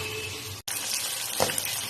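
Small mourala fish fry in hot oil with a steady close sizzle, broken by a brief silent gap and a short louder spatter.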